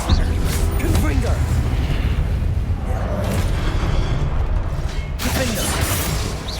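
Confringo spell blasts go off in Hogwarts Legacy during a combat trial, with booming fiery explosions over dense, loud battle noise and a voice calling out spell names.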